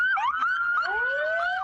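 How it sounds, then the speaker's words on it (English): Wailing and yelping sirens from first responder vehicles out of Bridgeport, parading past, loud and close, with several overlapping tones sweeping up and down continuously. "Sirens blaring, vehicles parading"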